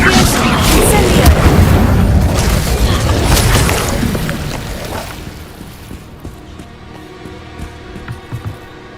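Booming spell explosions from a Harry Potter video game, several heavy blasts densely layered in the first few seconds, then fading into a quieter rumbling tail with scattered small pops.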